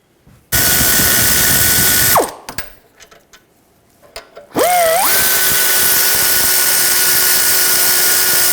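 Air-powered ratchet driving an 18mm socket on the brake caliper bracket bolts of a 2006-2010 BMW 550i. Two loud, sustained whirring bursts come close up, with a steady pitch and a sharp drop where the first run stops. Short clicks and rattles fill the pause between them.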